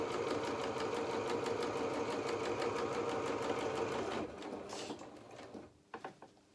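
Sewing machine stitching a seam on a felt doll's duffle coat: a fast, steady mechanical whirr and needle chatter running loud for about four seconds, then slowing and stopping, followed by a few small handling clicks.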